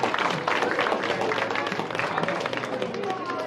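Brief burst of audience clapping at a wildlife rescue show in a shopping mall, mixed with crowd murmur and chatter, lively and close for a few seconds.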